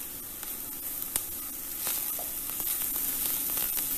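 Chopped onion and grated carrot frying in a pan with salt, a steady close sizzle and hiss with scattered crackles and a few soft stirring scrapes, no voices over it.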